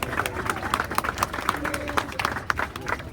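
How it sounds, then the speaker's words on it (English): Crowd at an evening solidarity vigil in London after the Finsbury Park attack, clapping steadily in a dense, moderately loud patter, with scattered voices mixed into the applause. "Give yourselves a big cheer and a round of applause for joining us in solidarity this evening."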